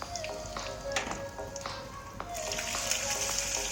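Cardamom pods dropped into hot oil give a light, steady sizzle and crackle, with scattered taps and pops from the pan close by, joined by a brighter hiss near the end.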